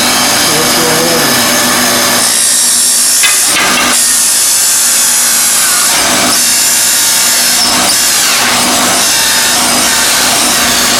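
A power tool drills the first hole in a rocket engine mount, loud and close, with bursts of high whining and grinding that rise and fall as cutting comes and goes.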